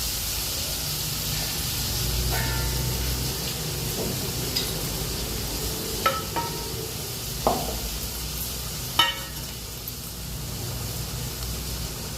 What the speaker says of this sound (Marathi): तळलेल्या तेलामध्ये ते सगळं भाजून घ्यायचं